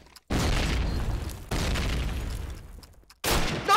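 Planted explosives blow up in the video game Panzermine: three loud, close booms, each a broad roaring blast that rumbles and decays for about a second before the next detonation.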